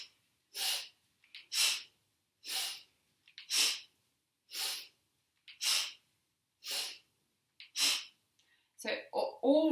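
Rhythmic, forceful nasal breaths from a Kundalini yoga breathing exercise, about ten sharp bursts at a steady pace near the microphone, with brief quieter breaths and shuffling at the end.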